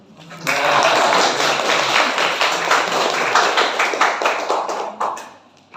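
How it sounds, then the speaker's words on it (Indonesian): Sustained applause from a university audience, steady dense clapping lasting several seconds before tapering off. "Tepuk tangan."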